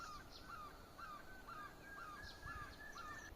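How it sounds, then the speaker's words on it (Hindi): Crows caw repeatedly in a mountain village, a string of short harsh calls spaced about every half second, moderately distant over a quiet outdoor background with no talk. "इस तरह की चिड़िया की आवाज़ आपको खूब सुनाई देती है। आप भी सुनिए एक बार।"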